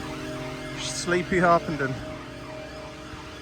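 A police car siren sounds in Harpenden as a steady, distant tone that holds throughout, heard beneath someone talking.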